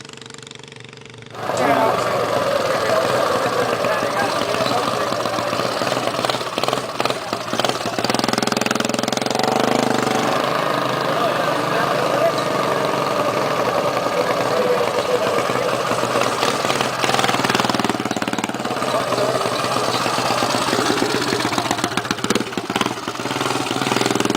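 A V8-powered bike, its engine originally a 5-horsepower Briggs like those on junior dragsters, idles with a loud, steady, rough rumble after a short quiet start, with an uneven knocking pulse throughout.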